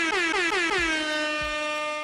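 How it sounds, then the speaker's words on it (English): A loud, blaring air horn sounds in quick repeated blasts, then holds one long sustained tone to the end. "I'm gonna go ahead and give you the air horn salute"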